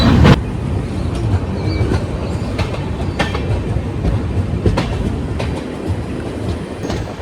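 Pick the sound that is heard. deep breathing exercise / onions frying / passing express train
passing express train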